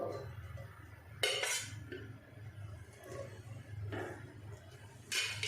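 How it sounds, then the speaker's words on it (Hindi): Ghee goes into a kadhai on a stove with a few quiet metallic clinks and taps of a spoon against the pan, spaced out over soft background hum. "अब इसमें डाल देंगे घी हम डालेंगे 3 से 4 टेबल स्पून।"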